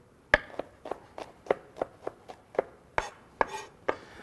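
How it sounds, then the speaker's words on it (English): Garlic cloves mashed down on a cutting board with a knife, a series of about fourteen sharp, dry knocks in an uneven rhythm, close up and crisp against a quiet kitchen. "I like to just kind of mash them down a little"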